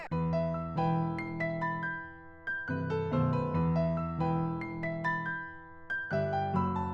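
A piano plays a moderate-tempo melody over sustained chords, notes ringing clearly with gentle accents; no voices.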